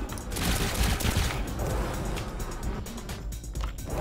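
Four cannons on a player-built plane fire in the Trailmakers video game, with rapid, dense bursts of gunfire that rattle continuously and loudly for several seconds.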